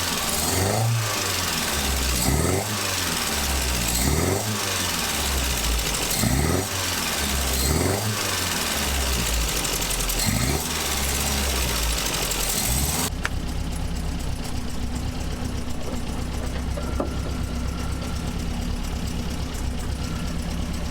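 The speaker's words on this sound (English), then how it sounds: "I got full choke and I just got a little bit of pressure on the accelerator. Rev that again, I want to watch." A Triumph car engine on full choke revs repeatedly after carburetor tuning, rising and falling in about five loud, regular revs over a rough idle, then drops to a quieter, steadier idle for the rest.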